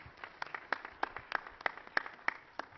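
In Mexico's Chamber of Deputies, a guest is welcomed with faint, distant applause made of sparse, fairly evenly spaced claps rather than a full ovation.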